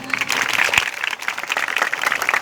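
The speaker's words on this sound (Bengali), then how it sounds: "সবাই স্যারের জন্য একটি করতালি হবে" A crowd at a wedding gathering claps in a brief burst of applause, steady and moderately near.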